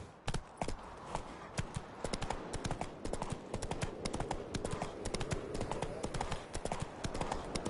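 Roach, the horse in The Witcher 3, galloping with rapid, sharp hoof clops in a steady driving rhythm, close and prominent throughout.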